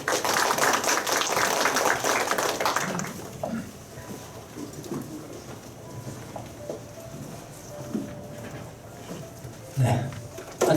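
An audience at a cooperative training course claps to welcome a speaker, loud dense applause for about three seconds that then fades into scattered claps, knocks and room noise.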